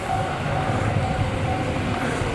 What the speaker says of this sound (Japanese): 今度は各駅停車の久喜行き6両編成が今度来ましたね。